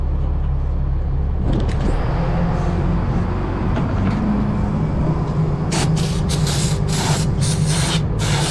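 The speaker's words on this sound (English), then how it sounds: "I blew it through with brake cleaner" Brake cleaner sprayed through the brake threads of a Caterpillar 24M motor grader, a loud steady hiss that runs throughout, with several sharper pulsed sprays near the end.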